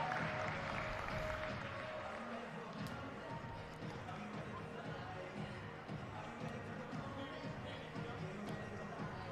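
Spectators at the Australian National Gymnastics Championships cheer and applaud for the tumblers, a steady, moderately loud wash of crowd noise filling the arena with continuous clapping and murmuring throughout.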